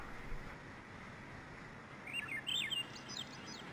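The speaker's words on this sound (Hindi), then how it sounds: "चिड़िया की आवाज़ आ रही है।" Birds chirp in short bursts of bright tweets over a steady low background hum, fairly close and clear, in a train simulator game.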